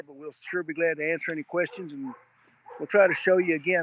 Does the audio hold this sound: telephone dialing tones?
no